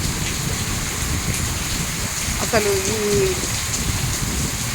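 Hail-laden rain pours down steadily outdoors on a chilly day, a dense, even hiss close by throughout, with a voice speaking briefly partway through.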